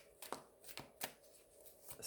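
Tarot cards get a light shuffle, with a few soft, quiet riffles and slaps in brief bursts spaced irregularly apart, close by and otherwise hushed.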